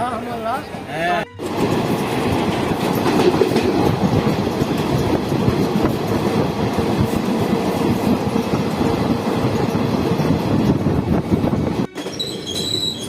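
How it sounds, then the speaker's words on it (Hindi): A train pulls into Durg railway station with a steady loud rumble of wheels on rails, clickety-clack and some wheel squeal running for about ten seconds, with brief quieter moments at the start and end. "संगवारी हो हम फाइनली दुर्ग रेलवे स्टेशन पहुंच चुके हैं"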